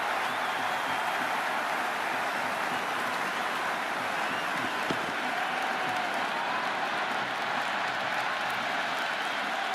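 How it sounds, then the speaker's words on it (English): A packed cricket stadium crowd roars continuously during the IPL final between RCB and GT, a dense, unbroken wash of cheering and applause heard from a distance. "It's evident and ever so audible that the crowd is at near bursting point at today's play."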